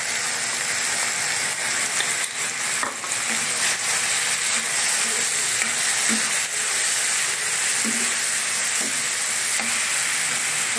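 Chopped tomatoes and a ginger-green chilli paste fry in a pan for a spicy cauliflower dish, giving a steady, close, loud sizzle with occasional stirring scrapes and no talking.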